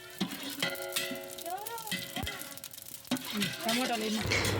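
Chicken frying in a pot on a village wood-fire stove for dum biryani, soft sizzling under clanking metal spoon strokes and scraping, with faint background music, close and fairly quiet.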